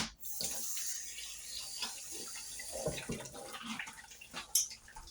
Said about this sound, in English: I'm just going to quickly just rinse my hands.